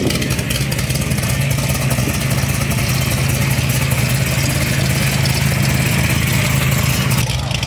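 A turbocharged SRT4 car engine runs at a loud, steady idle on E85 fuel, producing a rough, continuous low rumble with no talk over it.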